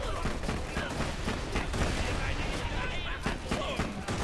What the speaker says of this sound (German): Oh mein Gott, Granaten.